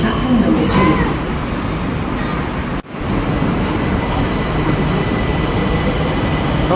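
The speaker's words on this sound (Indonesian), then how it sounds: "Oke, LRT-nya berangkat." Jabodebek LRT light rail train pulling out of a Jakarta station platform, with a loud continuous rumble and hum, a brief dip partway through, then steady rolling noise.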